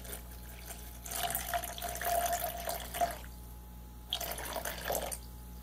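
Distilled water poured into a container sitting on a kitchen scale, a close splashing trickle in two bursts separated by a brief pause, with soft handling noise and no talking.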